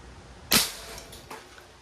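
A single sharp crack of a Crosman MagFire Mission .177 break-barrel air rifle firing outdoors, loud and close, followed by a fainter impact or echo about a second later.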